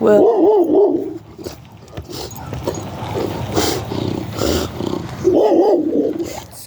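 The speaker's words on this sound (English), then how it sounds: "Excuse my dog. He doesn't like other people coming down the alley." A pet dog barks at people passing down an alley, with a few loud harmonic barks at the start and again near the end, and muffled sounds with a brief spoken word in between.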